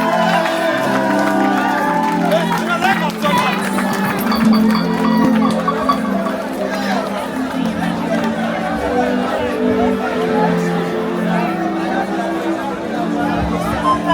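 Concert crowd at an outdoor show in Boundiali, applauding and cheering with scattered whoops and dense chatter throughout, steady and fairly loud, with voices talking over it.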